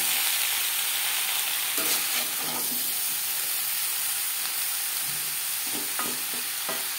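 Potatoes and jackfruit sautéing with spices in a pan give a steady close sizzle, with a few spoon scrapes and stirs near the end and no talking.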